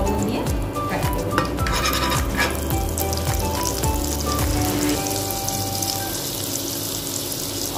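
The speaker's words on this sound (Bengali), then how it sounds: "বাটার দেব, বাটার আর সাদা তেলের মতো পনিরটা লবণ দিয়ে ফ্রাই করব।" Paneer frying in butter mixed with oil and salted, giving a steady close sizzle that continues without pause and sits under a busy, tonal kitchen background.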